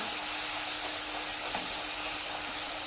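Jaggery melting in a pan gives a steady, faint sizzle and hiss that runs evenly and alone the whole time, with no talk over it.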